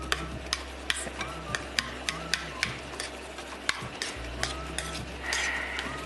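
A spoon stirring biryani in a pot, with a regular series of sharp scraping clicks against the metal and a low steady background hum, fairly close and with no talk.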